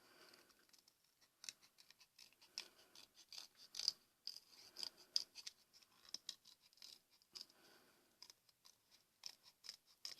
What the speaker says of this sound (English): Now we will need to cut this template with a pair of scissors.